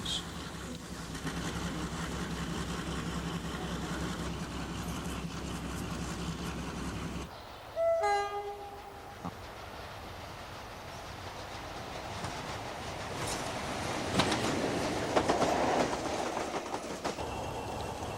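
A British Rail diesel locomotive train rumbles past steadily, then a horn sounds in short tones before the rolling clatter of wagons builds again, loud and close.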